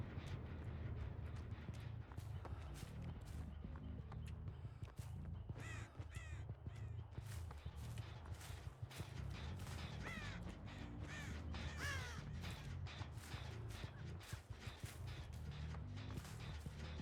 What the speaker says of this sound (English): Are those AFK crows I'm hearing?